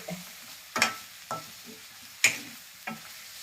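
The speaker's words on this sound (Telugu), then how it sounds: "ప్లేట్ తీసి కలపండి." Chicken fry being stirred in a pan, several sharp scraping strokes of a spoon against the metal at irregular intervals, each a distinct close scrape, over a faint sizzle.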